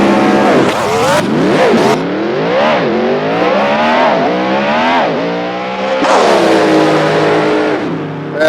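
Drag racing cars roar loudly and continuously, engines revving up in repeated rising sweeps broken by quick gear shifts, with no talk.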